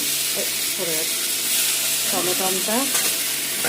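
Frying sizzle from a chicken stew pan as tomato goes in, a steady hiss of hot oil with stirring scrapes, while a voice talks over it in bursts.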